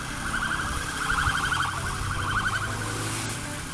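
A police car siren wails through São Paulo traffic, its rapid warbling tone pulsing steadily at moderate distance over the low rumble of a motorcycle and road noise.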